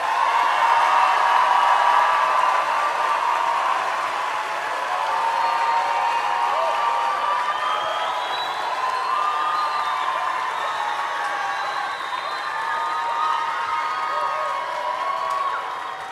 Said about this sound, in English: would you acknowledge our graduates with a round of applause?